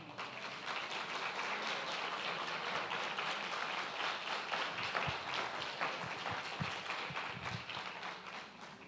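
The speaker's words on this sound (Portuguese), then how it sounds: "Aplauda o advogado." A church congregation applauds during a sermon. The sustained clapping sounds fairly distant and soft, steady throughout, with some low thumps and a little crowd noise mixed in.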